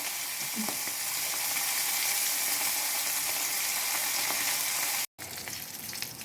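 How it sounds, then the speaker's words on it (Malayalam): Dried fish fries in hot oil with a loud, steady sizzle that continues nearly unbroken, cutting out for a moment near the end. "ഈ ഉണക്കമീൻ അങ്ങോട്ട് ഇടാം നല്ല ചൂടായി കിടക്കുക എണ്ണ"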